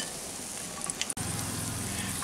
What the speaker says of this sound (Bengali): বাদবাকি পকোড়াগুলোকেও একই রকম ভাবে ভেজে নেব